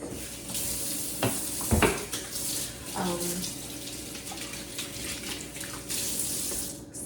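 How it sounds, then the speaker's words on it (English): Hands washed under a running kitchen tap, a steady near rush of flowing water with splashes and a few knocks, lasting several seconds, with a voice faintly present in places. "Let me wash my hands."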